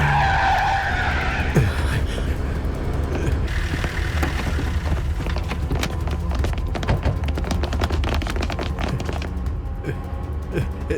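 A car skids across a surface with a long scraping rumble of tires, loud and sustained and mixed with clattering noise, with faint voices underneath.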